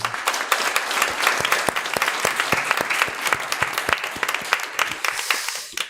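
A church congregation breaks into sustained, dense applause during a Sunday service, many hands clapping steadily for several seconds with no talking over it.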